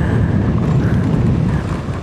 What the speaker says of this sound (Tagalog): kaya ang lakas ng hangin dito